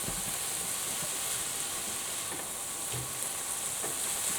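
Rice and vegetables being stir-fried in a pan, a steady close sizzle with faint scraping of stirring running through the whole stretch, no talk.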